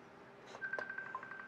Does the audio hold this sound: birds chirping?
no